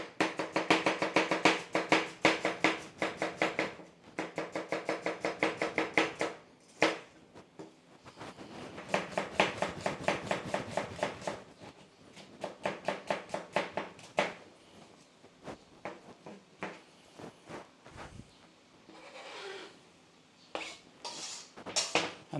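Knife chopping red onions on a board, rapid bursts of crisp taps in quick runs, then slower, sparser cuts, close and clear with no talk.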